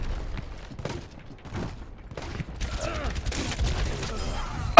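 Gunfire in the Overwatch video game: rapid bursts of shots with booming impacts over game sound, growing denser and louder toward the end.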